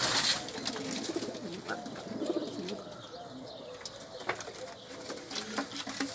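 Pigeons coo nearby in soft, rolling, repeated calls, with light chirps, faint wing flaps and scattered background noise.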